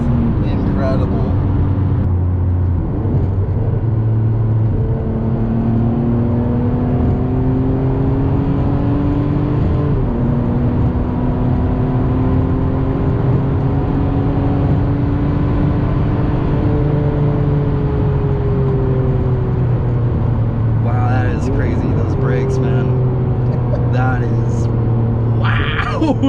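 A Ferrari 599 GTB V12 engine revs hard through acceleration and a downshift, a loud rising and falling harmonic roar shifting pitch across gears for the whole stretch, with voices talking underneath.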